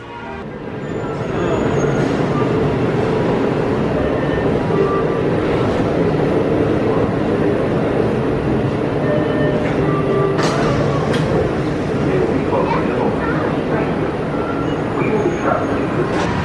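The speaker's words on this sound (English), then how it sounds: "Here in the monorail," Walt Disney World monorail cabin in motion, a loud steady rumble and rolling hum throughout with scattered clanks and a dog-like bark or voice in the mix, continuous and close.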